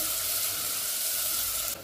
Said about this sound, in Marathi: तेल गरम झाल्यावर सर्वात आधी लसूण, त्यानंतर कांदा, जिरा आणि लसूण परतून घेतल्यावर कांदा टाकलेला आहे